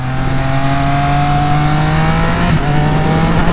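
A 2022 Triumph Speed Triple 1200 with an ECU flash tune is ridden through a tight turn on rolled-on throttle. Its engine note climbs steadily, loud and continuous from close by, with a short dip midway.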